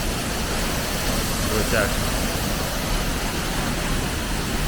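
A continuous, roaring rush of the La Chorrera waterfall in Colombia fills the scene as a steady broadband wash, with a person speaking briefly over it.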